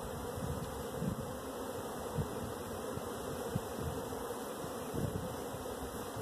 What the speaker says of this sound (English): Searching for the queen. A lot of young bees,